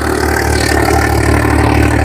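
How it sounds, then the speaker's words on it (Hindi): A Swaraj 855 three-speed tractor engine idles with a steady, loud low-pitched diesel rumble and a constant rhythmic throb, close by, with no talk. "3 स्पीड ट्रैक्टर है भाई, ऐसे ही चलेगा"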